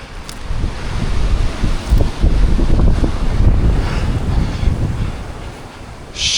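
Strong wind buffets the microphone high in a forest tree, a steady low roar with gusts rising and falling throughout, loud and close with no talk.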